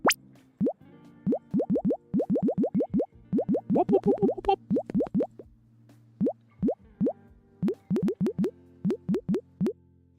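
A synthesized sine-wave game sound effect run through a flanger repeats as a rapid series of short rising blips, loud and close, each ending in a small pop.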